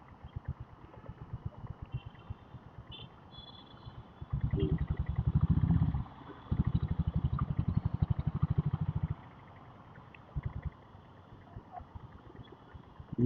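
A diesel Royal Enfield Bullet motorcycle cruising through city traffic without a downshift, its steady thumping exhaust pulses running throughout and swelling louder for several seconds in the middle before easing back.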